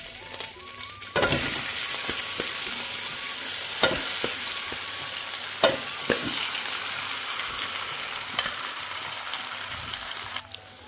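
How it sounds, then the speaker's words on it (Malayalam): Boiled cassava sautés in hot oil with mustard seeds, chillies and curry leaves, giving a steady close sizzle broken by the occasional clack of a spoon stirring the pan. "നമുക്ക് ആദ്യം ഇതൊന്ന് എണ്ണയിലിട്ടൊന്ന് വഴട്ടാം"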